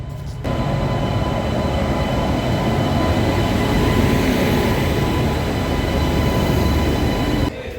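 A train rumbles steadily past at close range at Ayodhya Dham (Ayodhya Cantt) railway station, a continuous loud roar of wheels on rails with a faint high whine.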